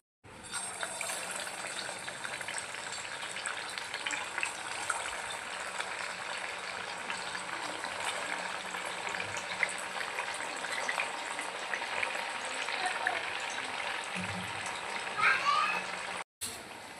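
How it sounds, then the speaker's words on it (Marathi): Sabudana vada (sago fritters) frying in hot oil give a steady, dense bubbling sizzle that runs unbroken throughout, with a voice speaking over it. "आता आपण याला तेलात टाकू।"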